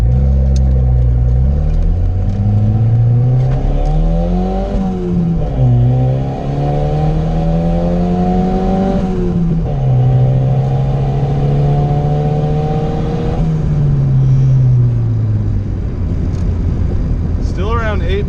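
A big-turbo Volvo accelerates hard from inside the cabin, its engine note climbing through rising pulls with gear changes in between. Loud and close, with a voice speaking over it.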